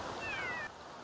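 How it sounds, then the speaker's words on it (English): Cat yowling in the Sims 3 game, a single faint, short drawn-out meow that slides downward in pitch before cutting off. "the sudden eruption of yowls broke the silence"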